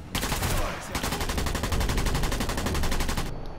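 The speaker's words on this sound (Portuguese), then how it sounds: "Aqui é metralhadora, não é arminha de sniper, né?" Rapid, sustained automatic machine gun fire in Sniper Elite V2 Remastered, a dense rattling burst that starts after a brief gap and keeps going for several seconds at high volume.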